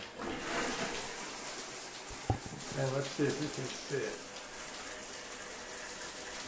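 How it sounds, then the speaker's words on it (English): Hot water gushes strongly from a bathtub tap with good pressure, a steady close rushing hiss that runs the whole time while a person talks over it. "I'm going to turn on the hot water"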